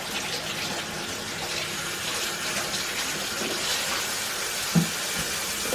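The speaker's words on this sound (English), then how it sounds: "let me wash these squash off" Tap water running steadily into a kitchen sink while squash are rinsed under it, a constant close splashing gush with a faint clunk near the end.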